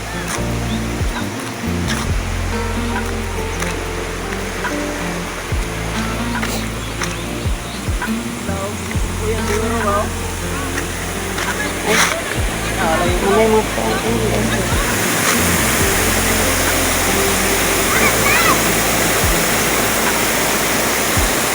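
River water rushes in a steady, loud wash, heard close and unbroken throughout, with people talking over it.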